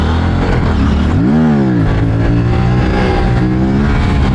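A 2024 Aprilia RS 457 motorcycle accelerates hard on a ride, its engine note rising sharply and then holding a loud, strained pitch, recorded close from the bike itself.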